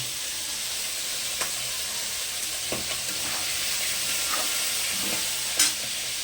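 Potatoes sizzle steadily in a hot pan for a papaya curry, with a few sharp stirring clinks and scrapes rising over the constant frying hiss.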